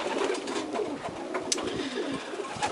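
Racing pigeons coo softly and continuously inside a loft, low murmuring calls overlapping at close range with a faint sharp click partway through.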